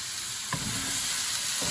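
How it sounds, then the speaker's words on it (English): Onions and a tablespoon of minced garlic frying in a pan for Brazilian stroganoff, giving a steady close sizzle with a faint stir or scrape partway through and no talk. "You could hear that sizzling."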